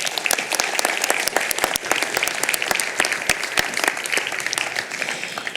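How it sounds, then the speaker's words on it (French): A forum audience applauds an author, a lively burst of many hands with crisp, distinct claps standing out from the steady roar throughout. "on peut l'applaudir"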